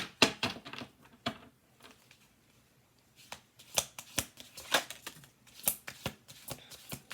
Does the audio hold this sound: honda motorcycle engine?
no